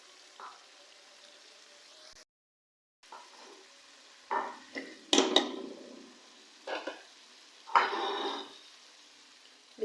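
Fish pieces hit frying masala in a pan and sizzle, with stirring and scraping scattered through, some bursts louder than others and brief gaps of near silence between them.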